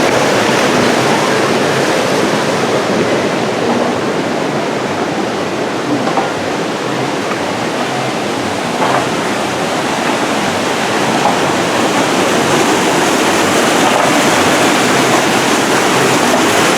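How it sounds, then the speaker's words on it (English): A waterfall at Walt Disney Studios Paris rushes in a steady, loud, continuous roar that never lets up. "And the waterfall."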